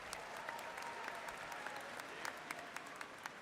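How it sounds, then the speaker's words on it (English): An audience at a university spring commencement ceremony applauds a soloist, a sustained crowd clapping heard from a distance, with a few sharper individual claps standing out. "Let's give him another big round of applause."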